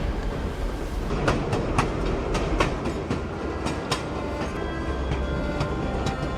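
A train pulling away along a railway, a steady loud rolling rumble with repeated rail clicks and clacks at irregular intervals throughout, no voices.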